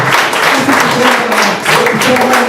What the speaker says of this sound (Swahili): wapi makofi ya mheshimiwa jamani?